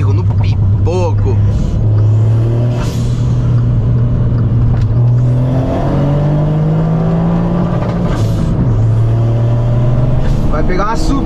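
A tuned Volkswagen Up TSI stage 4 accelerates hard, its loud engine note climbing and dropping through gear changes, with sharp exhaust pops and crackles and someone talking over the engine.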